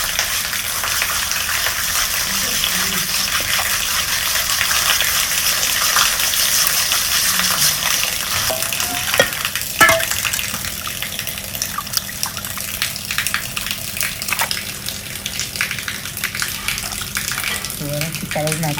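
Steady rush of running water with splashing and handling sounds as kilanga fish are washed, continuous throughout at moderate loudness.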